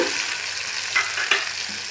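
Half a tomato is added to egg curry masala with ginger-garlic paste, and a steady hot sizzle of frying follows, with a couple of soft stirring knocks close by.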